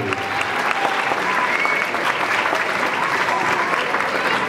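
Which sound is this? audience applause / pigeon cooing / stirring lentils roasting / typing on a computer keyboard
audience applause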